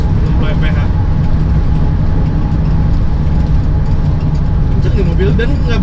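A Mustang GT500 Eleanor pulling hard in third gear from inside the cabin, its loud, dense engine roar and road noise steady throughout, with occasional voices underneath.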